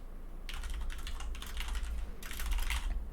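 Fingers type rapidly on a computer keyboard in bursts of close, crisp clicking, with short pauses between runs, over a low background hum.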